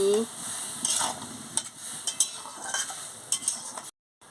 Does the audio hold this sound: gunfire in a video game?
no